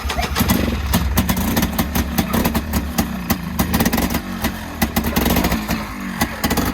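The air-cooled engine of a buggy cranks over on its starter and catches, giving a loud, close, rapid chugging with sharp rhythmic pulses throughout.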